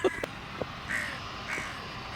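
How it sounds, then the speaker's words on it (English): Crows cawing outdoors at a distance, a few scattered harsh calls spaced apart over quiet ambient background. "the croaking of birds."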